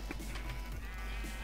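Sheep bleat in the Minecraft video game in a short burst of quiet, repeated synthetic bleats over a low steady game background hum.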